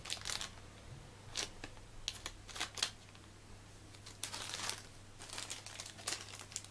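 Plastic packaging crinkles and rustles in short, scattered bursts as GoPro Hero 3+ replica accessories are unwrapped. The sound is faint and close over a low steady hum.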